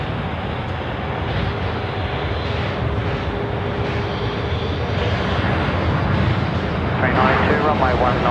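Jet engines of an Air Canada Boeing 787 at Brisbane Airport give a steady, loud broadband roar that holds for the whole stretch and swells slightly near the end, with no talking over it.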